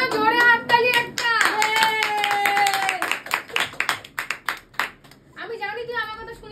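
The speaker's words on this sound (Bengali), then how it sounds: "প্রিয়ার জন্য জোরে হাততালি একটা" An audience gives scattered, uneven claps for Priya at a family celebration, with singing voices before and after the short burst of hand claps.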